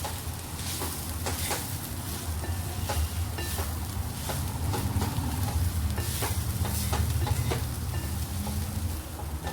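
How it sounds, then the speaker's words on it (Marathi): A spatula stirs karela bhaji, bitter gourd sabzi mixed with grated dry coconut, in a pan on the stove. Repeated scraping strokes tick steadily over a soft, constant sizzle, close by and with no talking. "मस्त मिक्स करून घेऊया हलवून घेऊया भाजी चांगली"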